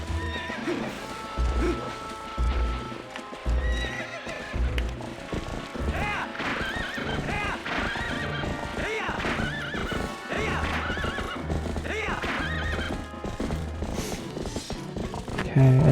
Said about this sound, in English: Let's get back on the horse.